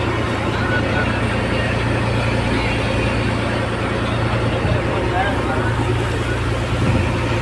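A fishing boat engine drones steadily in strong wind, a constant low hum beneath a rough, buffeting rush of air that stays loud and even throughout.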